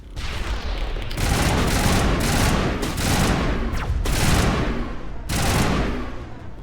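Heavy automatic weapon fire in the game Mass Effect on Feros, loud sustained bursts of shots with brief gaps between volleys, no talking.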